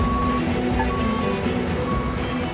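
Steady rain falling on an outdoor ironworking construction site, a continuous broadband patter and hiss throughout with no clear talk.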